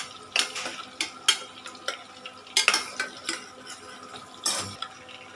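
Chopped kanthari and green chillies stirred into a hot pan, sharp intermittent clinks and scrapes of a spoon against metal over a faint sizzle, close and without talk.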